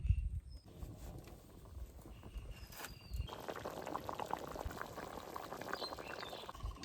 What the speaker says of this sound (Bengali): ঝোলে সুন্দর জাল উঠে গেছে